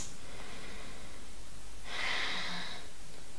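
A single audible breath drawn through both nostrils during a yoga twist, a brief soft airy rush midway through an otherwise quiet stretch.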